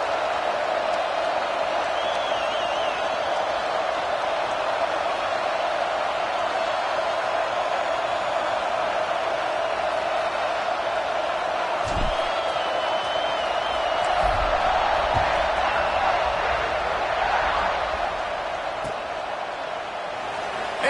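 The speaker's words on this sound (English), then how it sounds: "this crowd is feeling themselves after that last drive" A football stadium crowd at a kickoff in an Ohio State versus Clemson game, a steady broad roar of many voices with a brief swell of cheering, heard beneath a commentator talking throughout.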